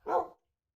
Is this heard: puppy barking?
yes